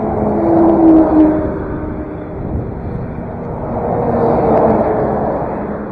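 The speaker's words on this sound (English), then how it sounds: "a lot of trucks transporting stuff" Traffic rumbles along a city street in Makati, with heavy trucks hauling goods passing nearby, the engine roar swelling, fading and swelling again with no voices.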